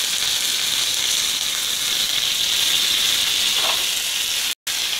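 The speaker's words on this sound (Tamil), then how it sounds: "தாளிச்சு விட்டுறலாம்." Hot oil tempering for cooker sambar sizzles and hisses in a steady, bright, continuous crackle close by, with a brief dropout near the end and no voices.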